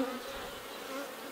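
Honeybees at an open hive give off a soft, steady buzz, faint and continuous with a slight waver in pitch as bees move nearby.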